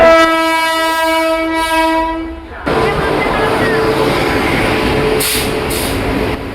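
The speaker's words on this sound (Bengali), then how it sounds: "এই যে কাঞ্চনকন্যা এক্সপ্রেস, এটাও লেটে চলছে।" An Indian express train, the Kanchankanya Express, passes close by with a loud, sustained multi-tone horn blast, then the heavy rushing rumble of the coaches rolling past.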